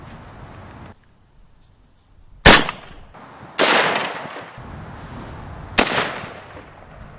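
Three loud, sharp rifle shots from a Russian 7.62x39 fired into a stack of vinyl records, spaced a second or more apart, with quiet room noise between them.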